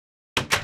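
A back door opening in the Minecraft video game: after a stretch of silence, a short, bright clunk plays in two quick bursts, close and clear.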